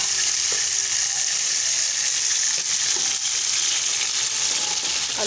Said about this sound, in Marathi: टोमॅटो कसे भाजले गेलेले आहेत। मस्तपैकी भाजले गेलेले आहेत।